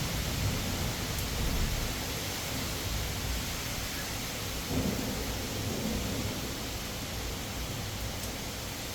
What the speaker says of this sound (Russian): Аж несет дождь ветром.